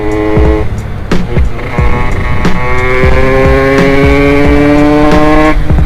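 A 50cc moped fitted with a GPR Doppler Vortex engine revs loudly up close, its buzzing two-stroke note climbing and falling continuously with sharp throttle blips.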